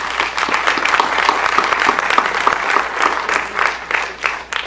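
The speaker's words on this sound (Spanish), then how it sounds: "les pediría yo un aplauso para el doctor León Portilla" Sustained applause from an audience at a lecture event honoring a historian, steady dense clapping throughout with a slight swell near the end, no speech over it.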